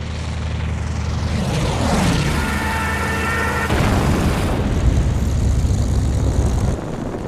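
Enemy aircraft in the Battlestations Midway game roar in loudly with droning engines and a rising, sweeping whine, layered over heavy rumbling booms in a continuous, dense battle din.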